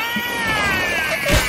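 A cartoon cat lets out a single drawn-out, wavering meow, close and fairly loud, with faint background noise and a brief low thump near the end.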